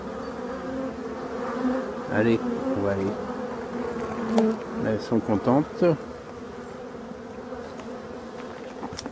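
A steady buzzing of black bees hums throughout, with someone speaking briefly over it in short phrases.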